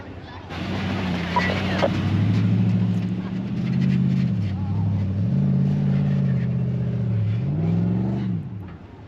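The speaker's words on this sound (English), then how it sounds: "Who said a ram couldn't go off-road, eh?" A Ram truck drives off-road on sand dunes at Lancelin, WA, its engine droning and revving in repeated rising and falling surges, heard from inside the cab. A voice speaks briefly near the start.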